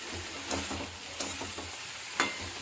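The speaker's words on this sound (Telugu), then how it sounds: "కట్ చేసి పెట్టుకున్న టమాటా వేసుకోవాలి. వేసుకొని బాగా కలపెట్టి" Chopped tomato sizzles in a pan of eggplant rice masala, with a steady frying hiss broken by a few sharp spoon scrapes as it is stirred in.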